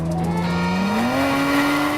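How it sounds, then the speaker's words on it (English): A Toyota Avalon TRD Pro concept race car screams past at speed, its engine note rising steadily through a gear, loud and close, with faint tire noise and no talk. "This is an Avalon TRD. I love the sound of this thing"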